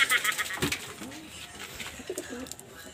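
Racing pigeons in a loft coo softly and intermittently, with some rustling and handling noises nearby.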